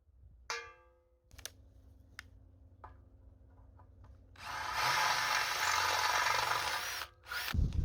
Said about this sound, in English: So better get drilling.